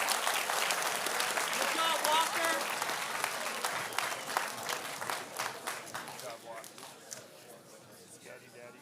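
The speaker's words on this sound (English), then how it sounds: "We can give them a round of applause." Applause from the audience at a school honors assembly, a dense sustained clapping that carries on for several seconds and then thins out and fades toward the end.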